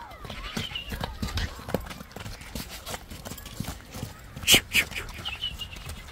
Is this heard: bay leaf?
no